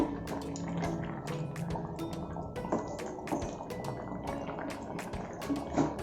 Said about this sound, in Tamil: ஒரு 5 நிமிஷம் கொதிக்கிட்டோம்.